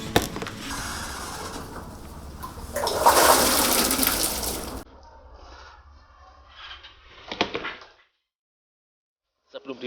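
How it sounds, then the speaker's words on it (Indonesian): Shallots and chilies being rinsed in water, with a few seconds of loud splashing and rushing water, then quieter sloshing and handling noises that stop near the end. "bawang dan cabai ini aku cuci bersih terlebih dahulu"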